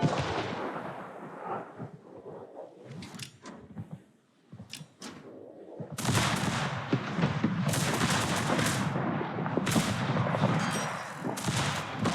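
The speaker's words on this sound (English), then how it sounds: "There go the torpedoes" Torpedoes launch from the Libertad ship in a naval battle video game, a series of sharp booms and thuds that start out spaced apart and then turn into a dense, loud burst of blasts and rumbling.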